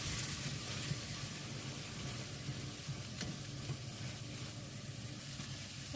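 Grated tomato puree sizzles steadily in a pan of homemade chicken curry as it is stirred, a dense continuous hiss with faint scraping, moderately close and without talk.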